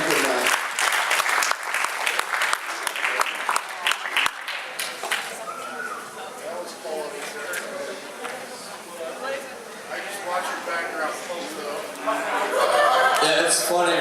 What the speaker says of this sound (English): give this guy a round of applause for being so fucking awesome